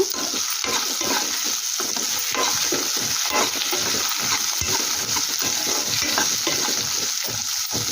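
Curry leaves and garlic fry in hot oil for a chutney, giving a loud, steady sizzle throughout with repeated stirring scrapes, close and with no talk.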